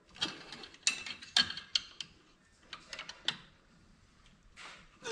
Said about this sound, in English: Put the C-clip back in the axle, and you pry the axle back out.